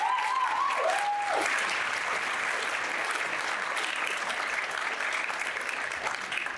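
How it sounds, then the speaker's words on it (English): Sustained applause from a high school concert band audience, even and full for several seconds, with a brief tonal sound near the start and a slight fade at the end. "Round of applause for that."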